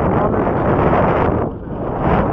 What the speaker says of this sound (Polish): Straszny wiatr, nie?